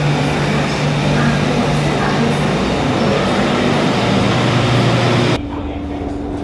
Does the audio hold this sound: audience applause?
no